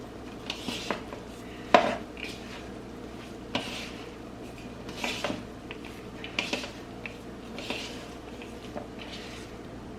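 Lentil loaf ingredients being stirred in a bowl, with scattered clinks and scrapes of a utensil against the dish and soft squishy mixing in between, fairly quiet and close.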